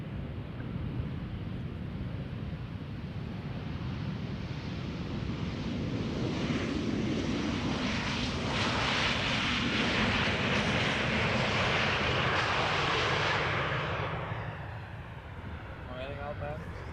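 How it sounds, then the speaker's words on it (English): KLM Embraer 190 airliner arriving at Amsterdam Schiphol: a broad, steady jet roar swells over several seconds and then fades, with wind noise throughout and people talking over it. "so this is KLM flight 1818, arriving from Frankfurt, Embraer 190"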